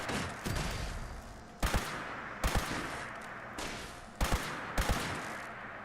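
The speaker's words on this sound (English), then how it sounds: "are the gunshots too loud?" Bursts of rapid gunfire in the video game Fallout 76 crackle in several volleys, separated by sharp single shots, loud and close with no voices.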